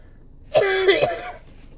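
A man coughs during a smoke session in a closed room, with one harsh burst followed by a short rattling series of coughs that stops after about a second.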